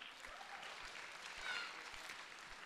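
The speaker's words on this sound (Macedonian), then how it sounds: "Уште еден аплауз." Audience applause at a stage festival, a steady wash of clapping from a crowd held at a moderate level throughout, swelling slightly midway.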